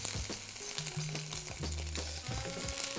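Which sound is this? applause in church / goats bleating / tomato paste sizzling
tomato paste sizzling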